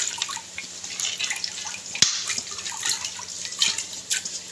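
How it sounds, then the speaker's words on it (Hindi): Soaked lentils and water are tipped into a pressure cooker, giving light wet splashes and drips with one sharp knock around the middle, fairly close and without talk. "दाल को हम कुकर के अंदर ऐड कर देते हैं।"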